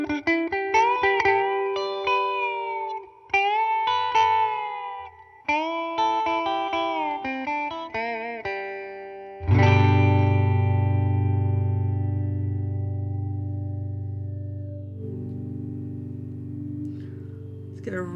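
A guitar through a Catalinbread Many Worlds phaser plays a run of plucked notes, then one big strummed chord rings out for several seconds under a deep, slow phasing sweep that gradually fades.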